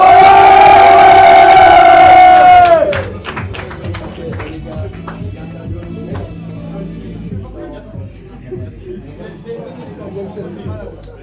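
At a fight event, an announcer's drawn-out call to make noise gives way to a loud, continuous crowd roar with cheering, whistles and scattered claps that gradually eases but keeps going.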